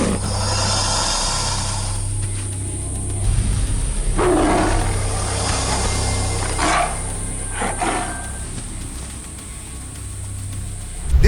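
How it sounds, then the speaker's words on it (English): A tiger attacking a crocodile gives deep, rough roars and growls over a noisy outdoor background with a steady insect-like hum, with sharp bursts scattered through the scene. "This is footage of a tiger killing a crocodile."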